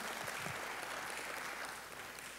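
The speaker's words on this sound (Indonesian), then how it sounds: "Beri tepuk tangan bagi Allahmu saudara" A church congregation claps together in a steady, dense wash of applause during a Sunday worship service, continuous and fairly distant with no voices over it.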